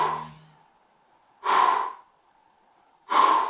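Heavy exercise breathing, with three long, loud breaths, forceful and airy, spaced about a second and a half apart and close to the ear.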